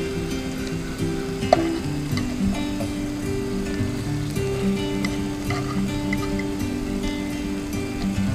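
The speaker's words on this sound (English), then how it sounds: "Cheap bacon, lots of fat, love it." Cheap, fatty bacon frying in a pan at a campsite: a steady, close crackling sizzle with scattered pops, under a low hum, with no talking.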